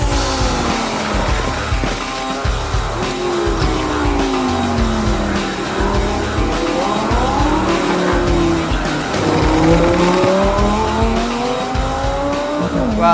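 Race cars lapping a motorsport track, engines loud and close as they rise and fall through gear changes, with tire squeal mixed into a continuous roar.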